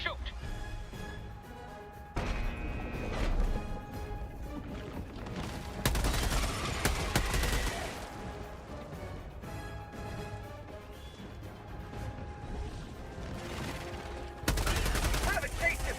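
Gunfire erupts in the video game Helldivers, with bursts of rapid shots and heavier blasts that come and go in loud stretches over steady game sound, while a voice talks in between.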